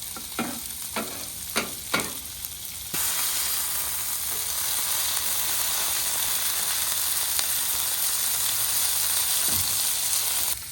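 Potatoes fry in bacon grease on a flat griddle: a few scraping stirs at first, then a loud, steady broadband sizzle that fills the rest of the clip, close and continuous with no talking.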